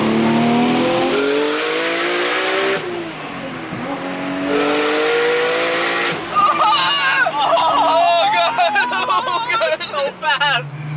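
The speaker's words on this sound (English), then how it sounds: "This is definitely the fastest GTR I've ever driven." A Nissan GT-R accelerates hard, its engine note climbing through rising sweeps and dropping between gear changes, loud and close from inside the car, with excited voices breaking in over the later revving.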